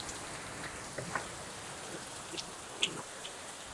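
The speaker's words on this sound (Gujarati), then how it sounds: "વરસાદ એ ભૂકા બોલાવ્યો હો ભાઈ" Heavy rain pours down steadily in Morbi, making a dense, continuous hiss with a few louder drop impacts scattered through it.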